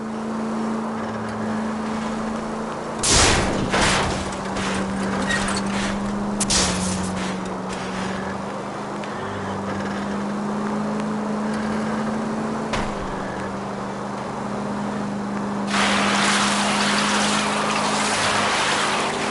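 Car engines drone through a chase in the 1940s Los Angeles video game L.A. Noire, including a red Ford, with a steady low engine hum, brief crashes or bumps, and a louder rush of noise near the end.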